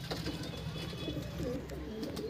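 Andhra pigeons coo softly in a breeding loft, a low continuous murmur of several birds with steady background hum.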